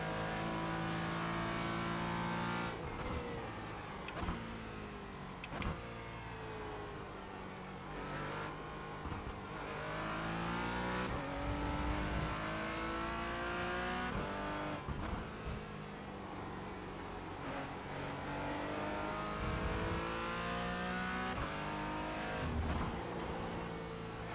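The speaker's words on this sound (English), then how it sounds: "Yeah, the engine sound is awful." Simulated race car engine from the iRacing sim at the Spa circuit drones continuously at high revs, rising and dropping through repeated gear shifts and brief lifts, loud and steady throughout.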